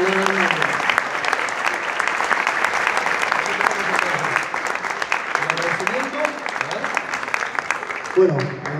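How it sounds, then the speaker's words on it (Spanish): Sustained applause fills a hall at an awards ceremony, a steady dense clatter of many hands from start to finish, with faint voices underneath and a brief swell near the end. "El aplauso, ¿no?"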